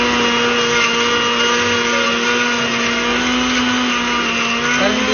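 A blender whirs steadily and loudly throughout, a constant motor drone with a slight shift in pitch near the end.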